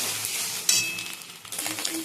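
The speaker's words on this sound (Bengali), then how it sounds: "এবার ভালো করে ডিমটাকে ভেজে নেব" An egg fries in oil in a wok, a steady broadband sizzle running the whole time with a brief clink of utensil midway and a few quieter stirring scrapes, no voices heard.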